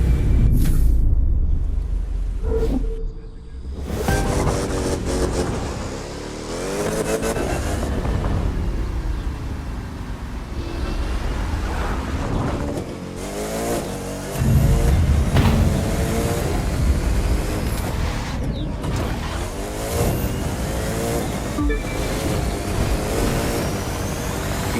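Racing car engines in The Crew 2 during an extreme live race roar and rev continuously. Pitches rise and fall as the cars accelerate and shift, with loud, close engine noise throughout.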